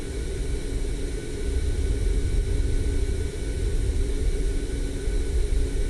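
A Boeing 787-9 Dreamliner in Microsoft Flight Simulator rolls out on the runway with reverse thrust, a steady low rumble and broadband roar holding throughout.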